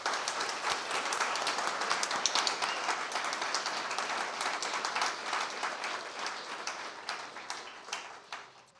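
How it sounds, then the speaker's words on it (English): A conference audience applauds at the closing session of AECtech 2023, dense sustained clapping from a large crowd that holds steady for several seconds before slowly easing off. "So big round of applause for these guys."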